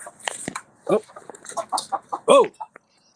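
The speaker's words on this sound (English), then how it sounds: "There's the portable chicken." Portable chicken held close by, giving a run of short clucks and squawks in uneven bursts, with a few voices talking around it.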